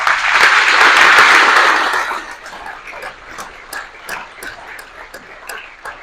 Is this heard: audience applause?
yes